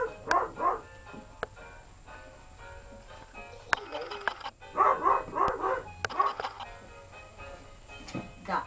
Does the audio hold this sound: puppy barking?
yes